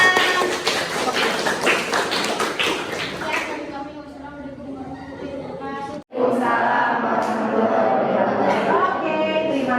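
A classroom of students claps for a student group's poster presentation in a civics lesson, a dense burst of rapid clapping lasting a few seconds before voices and chatter take over.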